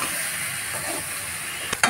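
Spices for a hing and peanut vegetarian achorini being stir-fried in a pan, a constant bright sizzle and hiss with a couple of stirring clanks right at the end, close and alone.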